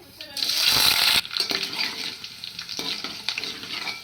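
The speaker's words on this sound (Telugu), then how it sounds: "నూనె బాగా కాగిన తర్వాత మనం తాలింపుకి రెడీ చేసి పెట్టుకున్నాం కదా అవైతే వేసేసుకుందాం" Tempering spices dropped into hot peanut oil sizzle and crackle loudly at first, then settle into a steady frying hiss with a few clinks of a stirring spoon, heard close with no talk.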